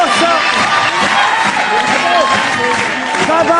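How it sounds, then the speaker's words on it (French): An audience applauds Babas and Constance with loud, sustained clapping and crowd cheering that runs continuously throughout. "Vous pouvez encore les applaudir."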